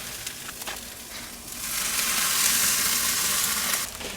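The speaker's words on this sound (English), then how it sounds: "and you hear them sizzle." Chicken kabobs, about 2.5 pounds of skewered chicken laid on a hot grill, sizzle loudly, a bright crackling hiss that starts with a few pops and then surges into a steady, close fry.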